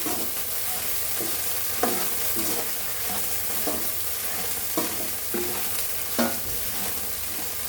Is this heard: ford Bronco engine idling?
no